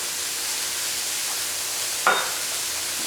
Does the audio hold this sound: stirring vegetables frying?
yes